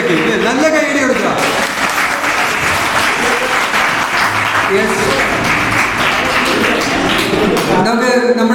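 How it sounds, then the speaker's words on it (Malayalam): An audience at a school event gives dense, sustained applause that fills the whole stretch, with voices heard under and around the clapping. "അടിപൊളിയാക്കി, നല്ല കൈയടി കൊടുക്കുക."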